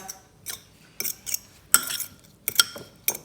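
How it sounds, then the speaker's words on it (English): A spoon stirs milk into meatball mixture in a bowl, giving about half a dozen sharp, separate clinks and scrapes against the dish at an uneven pace, close by, with no voices. "Give that a little stir."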